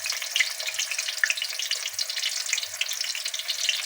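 Onion frying in hot oil on a griddle pan, a steady bright sizzle with small crackles and pops, close and continuous with no voices.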